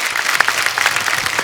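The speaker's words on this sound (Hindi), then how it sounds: "एक बार उनके लिए जोरदार तालियां हो जाए" Short burst of steady audience applause in a TV comedy show studio, a dense even patter of clapping with no voices over it.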